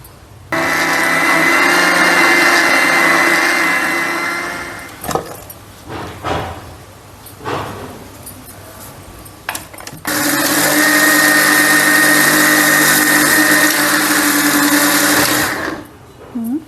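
Kitchen mixer grinder blending ingredients for homemade natural kumkum, a loud steady motor whine in two long bursts separated by a few seconds of clattering and handling, with no talk.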